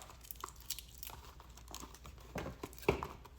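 Taped plastic packaging on a Littlest Pet Shop toy is pulled open with quiet, close crinkling and scattered sharper crackles and tearing, and no one speaks.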